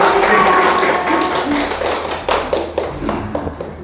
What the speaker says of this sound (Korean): 생신 축하드립니다 하고 박수를 보내겠습니다.